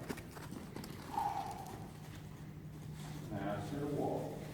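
Horse being ridden at a walk under saddle in an intro-to-saddle session, soft, steady clip-clop of hooves beneath a voice, with faint creaks and rustle.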